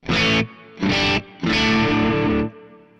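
Three distorted electric guitar chords through a Mooer GE-300 Lite hall reverb ring out, two short and one longer, each trailing into a spacious, lingering hall-like reverb tail.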